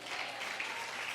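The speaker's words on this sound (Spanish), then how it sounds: "denle un fuerte aplauso al Señor." Congregation in a Spanish-language church service applauding, a brief burst of steady clapping from many hands filling the space.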